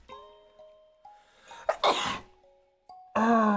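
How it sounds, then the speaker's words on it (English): A single person's sneeze, a sharp loud burst in the middle of a quiet indoor stretch with faint game sounds, followed shortly by a second strong vocal burst. "I'm gonna sneeze."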